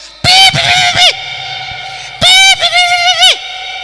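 Loud, close honking comes in two harsh bursts of repeated calls, each lasting about a second, with a short pause between them. No one talks over it.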